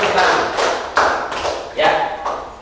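Classmates in a third-grade classroom clap together in a few uneven bursts of applause, fairly close and loud, with a teacher's voice speaking over it.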